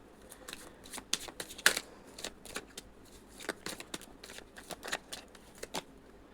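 Tarot cards are shuffled and drawn in a quiet room, a rapid irregular flurry of soft papery riffles and flicks, close and faint, with no voices.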